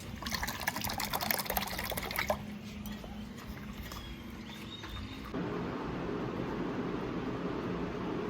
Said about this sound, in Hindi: थोड़ा सा ठंडा पानी डाल देती हूँ